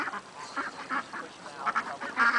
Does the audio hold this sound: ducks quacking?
yes